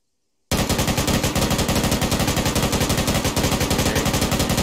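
A crew-served machine gun fires at its cyclic rate in one loud, continuous, rapid burst of evenly spaced shots that starts abruptly after a brief silence and keeps going steadily to the end.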